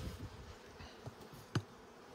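A dense swarm of honeybees buzzes continuously up close, with a few louder individual bees passing near.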